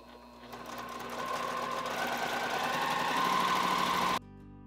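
A sewing machine runs steadily while stitching fabric for a beginner's log cabin quilt block, its fast motor hum building slightly and holding close and loud for about four seconds before stopping abruptly.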